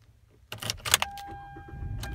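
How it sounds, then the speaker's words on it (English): A 2016 Hyundai Elantra Sport starts up inside the cabin with a brief cranking burst, then a steady low idle plus a faint electronic chime tone, heard close and quiet. "I'm gonna turn this vehicle on."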